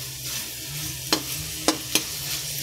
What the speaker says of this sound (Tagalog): Binisa ko lang siya sa bawang at sibuyas.